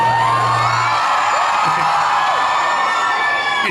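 Large indoor crowd at Mumbai Comic Con in Bombay Exhibition Ground, Goregaon, cheering, whooping and shouting loudly and continuously.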